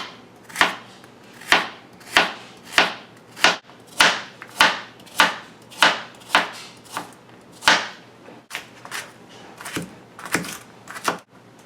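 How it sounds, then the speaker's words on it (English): A knife dices carrots on a cutting board in a steady run of about a dozen sharp, evenly spaced chops, close and clear, with no talking. "We also need 2 carrots that have been diced for this recipe."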